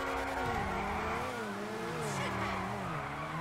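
Tires squeal continuously as an Übermacht Sentinel Classic Widebody drifts in a video game, long wavering shrieks sliding up and down in pitch over a low engine drone, loud and close throughout.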